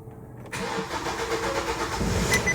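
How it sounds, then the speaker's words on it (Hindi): A Kia Seltos engine cranks with a long self-start, the starter grinding steadily and close for a couple of seconds before the engine catches with a louder low rumble. "देखो लंबा सेल्फ ले रही है बहुत ज्यादा गाड़ी।"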